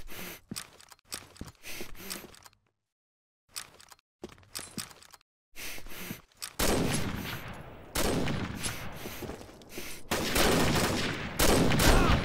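Rapid bursts of gunfire crackle in quick succession, pausing briefly, then building into dense, loud volleys toward the end.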